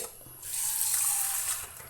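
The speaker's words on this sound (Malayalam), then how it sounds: "ഒന്നേകാ കപ്പ് വെള്ളം ഒഴിച്ച് കൊടുക്കുന്നുണ്ട്" Water pours steadily into a cooking pot while a vegetable and chicken kurma with potatoes is being made; a continuous close, moderately loud splashing stream lasting over a second, with no talk.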